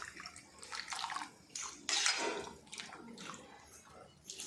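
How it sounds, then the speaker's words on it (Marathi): Potato wafer slices are stirred in boiling salted water, giving quiet watery swishes and sloshes in uneven bursts, with one louder splash in the middle. "मी पाण्यात वेफर्स टाकले आणि असे हलवून घेतले व्यवस्थित सगळे वेफर्स"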